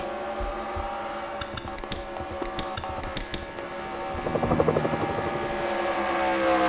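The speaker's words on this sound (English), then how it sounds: "Yeah, I can hear my helicopter." A helicopter's rotor chop and engine drone build steadily over a racetrack, growing louder as it approaches, with a few faint clicks early on.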